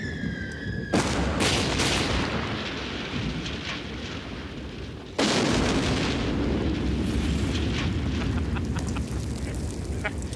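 Artillery fire and explosions in the 1993 war film Stalingrad: two sudden heavy blasts a few seconds apart, each followed by a sustained, rumbling crackle of battle noise.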